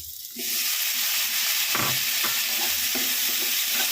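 Chayote sautéing in a pan, a steady close sizzle kicking in after a brief quiet start, with a few soft stirring scrapes and knocks breaking through the hiss.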